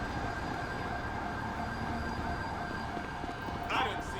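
Fire truck siren in the GTA V video game, a steady wailing tone running the full length at moderate level over a dense layer of game noise, with a brief extra burst near the end.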